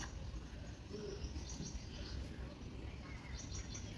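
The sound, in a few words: pigeon cooing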